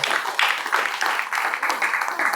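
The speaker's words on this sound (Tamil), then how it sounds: "இவருக்கு ஒரு பலத்தை கைத்தட்டல் கொடுங்க பார்க்கலாம்." Audience applause fills the space, a dense and steady patter of many hands clapping at fairly even loudness for a couple of seconds, with no voices over it.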